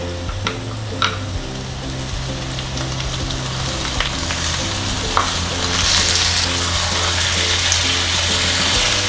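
Chicken breast sautéing with softened onions in a hot pan, a loud steady sizzle close by with light stirring and scraping, uninterrupted and without speech.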